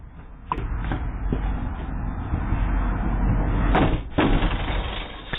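Kids kicking a house front door, caught on a doorbell camera: a few sharp thuds come first, then two heavy bangs close together near the end, over a steady outdoor background.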